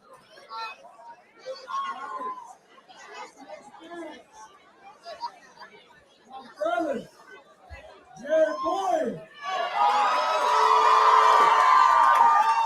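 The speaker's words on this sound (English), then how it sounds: "Crowd going nuts for the next competitor." Crowd at an amateur boxing event chatters and calls out in scattered bursts, building into loud cheering and whooping near the end as the next competitor comes out, with voices close by.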